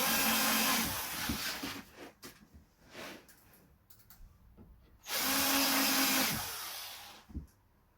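A power drill drives screws into a wooden shoebox, whirring in two loud bursts with quieter stop-start pulses between them, close and alone.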